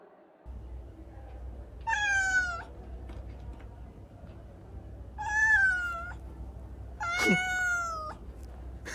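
A cat meows three times at spaced intervals, each a clear, drawn-out, tonal call, with a low steady background hum between them and no talking.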